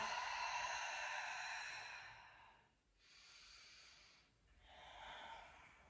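Slow, long exhalations during a morning stretching routine, close and steady, with two brief pauses between breaths and no talking.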